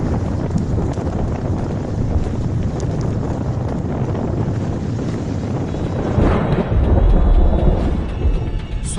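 Super Cyclone Amphan's storm winds roar at Digha on the West Bengal coast, a loud, constant rushing buffet that batters the microphone and surges stronger near the end.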